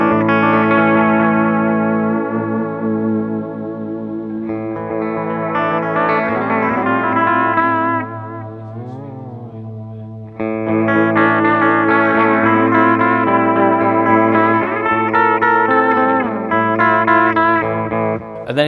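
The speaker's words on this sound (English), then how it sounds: "at the moment I've got it set to the chorus modulation" Electric guitar played through a Madbean Total Recall pedal, a DIY clone of the Electro-Harmonix Deluxe Memory Man, set to chorus modulation. Loud, continuous chords and notes shimmer with a wavering echo, with no talking.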